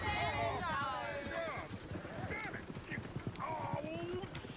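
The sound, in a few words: horses galloping and neighing in Red Dead Redemption 2 video game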